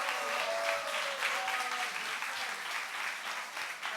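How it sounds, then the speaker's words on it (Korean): An audience at a book concert gives a warm, sustained round of applause, with dense clapping close by and a few faint voices mixed in. "오늘 멋진 사회자이자 연출가인 친구 우리 김재웅 목사에게 큰 박수 한번 부탁드립니다."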